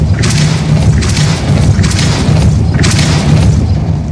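Casting the Depulso spell in Hogwarts Legacy brings a series of heavy, booming thumps, roughly four deep blasts in a steady rhythm over a rumbling low background.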